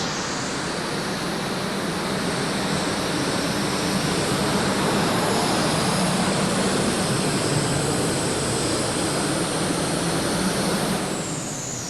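A multi-engine pulling tractor at a farm machinery show tractor pull, a loud sustained roar with a high whining edge that holds steady for several seconds, close and alone with no talk.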